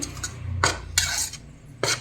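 A spoon stirs bread pakoda batter of gram flour, a pinch of turmeric and chili powder in a bowl, making several distinct scraping, clinking strokes against the sides with quieter pauses between them.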